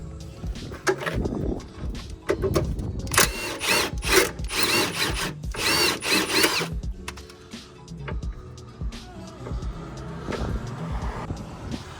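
Hand tools remove a coilover bolt and sway bar end link on a Lexus IS300 suspension, with clanks, scraping and bursts of impact-wrench rattle at close range and no talking.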